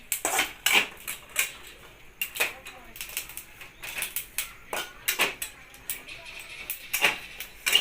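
Garlic and peanuts being pounded in a glass in a home kitchen, a series of sharp, uneven knocking thuds and clinks heard close, with someone talking in between.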